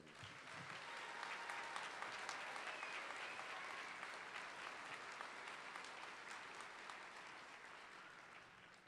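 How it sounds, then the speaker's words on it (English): Applause from a large audience at a college career and technical education commencement ceremony, a steady, dense wash of many hands clapping that holds evenly throughout at a fairly distant, soft level. "Let's give him one more big round of applause."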